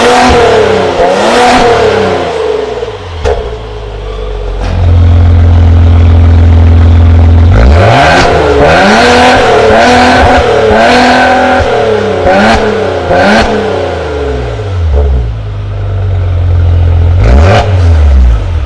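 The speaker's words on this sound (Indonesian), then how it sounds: "Sekarang kita masuk dan dengarkan suara mesinnya." Maserati Levante engine revving repeatedly, loud and close, with sharp rising blips and falling sweeps between rumbling idle stretches, several throttle bursts in sequence and no talk.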